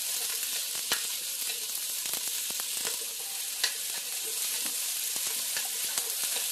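Bell pepper and onion stir-fry in a pan with a steady, close sizzle, broken by light scraping and clicks as the vegetables are stirred.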